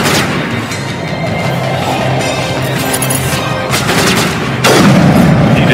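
Loud, dense gunfire and booming blasts from a Mass Effect combat scene roll on continuously, a heavy explosion landing near the end.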